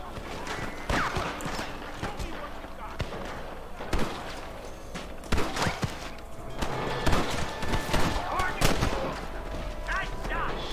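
Scattered gunfire in the Red Dead Redemption western game, repeated sharp shots cracking at irregular intervals during a running fight, with voices shouting over the shooting.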